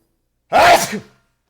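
A single sharp sneeze, close and fairly loud, bursting out abruptly and trailing off in under a second, with silence around it.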